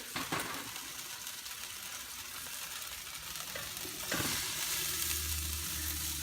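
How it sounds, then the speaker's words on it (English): Bihon rice noodles tossed and stirred together in a hot pan for pancit bihon guisado, a steady loud sizzle with scraping stir strokes and a low hum appearing near the end. "We're gonna mix them together."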